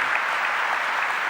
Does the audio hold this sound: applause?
yes